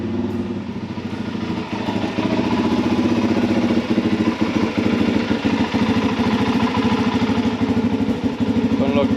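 A motorcycle engine idles close by after a test ride, with a steady, slightly uneven mechanical clatter that grows louder after the first couple of seconds and continues throughout.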